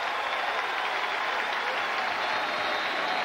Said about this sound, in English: And the crowd comes to its feet here in Piscataway.